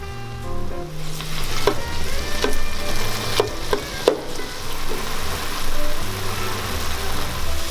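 Chicken and turkey frying in a pan, a loud steady sizzle close by with a few sharp clinks of a utensil stirring, no talk.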